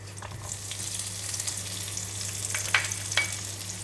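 Yellow onions frying in hot oil in a pan for a tofu stir fry with ginger, a soft continuous sizzle with a few faint clinks of utensils, with no talking.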